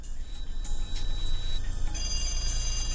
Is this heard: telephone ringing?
yes